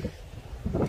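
Wind gusting by the sea, a brief low rumble of buffeting against the microphone that swells near the end, with no one speaking.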